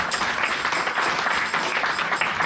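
A church congregation applauds in praise of the Lord, a dense, steady wash of clapping from many hands. It carries on evenly throughout, with no talk over it.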